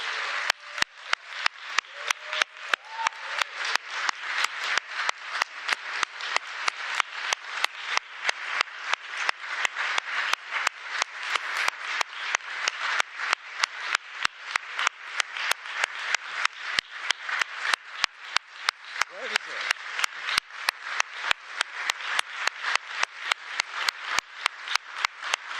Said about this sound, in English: I would really ask them to come on this stage for a great round of applause.